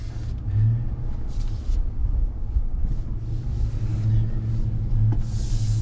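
A 2022 Ram Rebel G/T crawls off-road in 4-wheel drive low with a low, steady engine rumble, uneven bumps and rattles from the terrain, and a faint hiss of wind or gravel.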